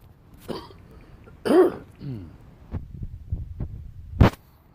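A few dry coughs and a throat-clearing rasp, scattered over several seconds, close and fairly loud against a quiet background.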